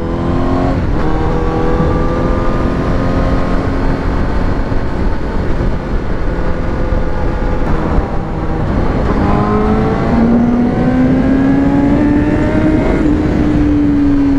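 A Honda CBR1000RR-R SP sport motorcycle engine revs loud and close, its pitch climbing through high rpm, dipping at shifts and rising again as it accelerates steadily, with no talking.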